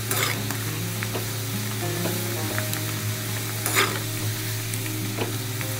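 Tomato paste for a mushroom lasagna sizzles steadily in a hot pan, with scraping stirs and small pops scattered over the continuous frying hiss.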